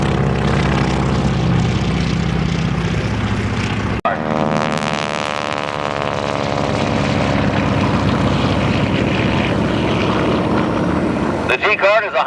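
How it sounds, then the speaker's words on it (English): A restored North American B-25 Mitchell bomber taxis at an airshow, its twin propeller engines droning loud and close with a rising, wavering pitch, a sharp break partway through and brief talk over the engine noise. "Taxiing out. Beautifully restored North American B-25 Mitchell bomber."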